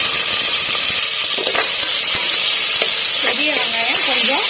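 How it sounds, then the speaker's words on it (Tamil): Onions frying in a pan for chickpea biryani give a loud, continuous sizzling hiss with occasional stir clicks, while a voice talks faintly underneath toward the end. "வெங்காயம் கொஞ்சம் கலர் மாறட்டும். இது வதங்கிக்கிட்டு இருக்க நேரத்தில்"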